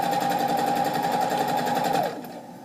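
A sewing machine stitches in a fast, steady, close whir for about two seconds, then winds down and stops.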